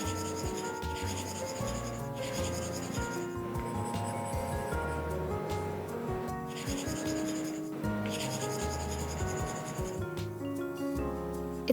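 A stylus draws on a paper-like screen protector film on a tablet, making a close, continuous scratchy rubbing as strokes start and stop, with no talk.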